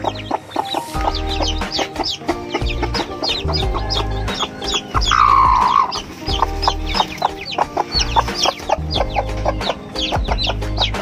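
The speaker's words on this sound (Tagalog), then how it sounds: "ito namang mga sisiw dito na bagong pisa. So puro black Australorp sila" Newly hatched black Australorp chicks peep in quick, high chirps while a hen clucks nearby. The calls are dense and fairly close, and background music plays throughout.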